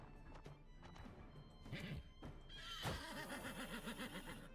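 A horse in the medieval strategy video game Wartales whinnies amid battle, the neigh following thuds and hoof clatter, fairly faint under game effects.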